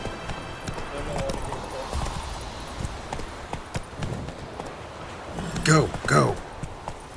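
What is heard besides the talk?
horse Roach galloping, hooves clip-clopping in video game The Witcher 3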